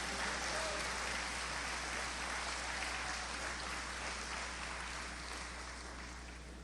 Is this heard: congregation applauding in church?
yes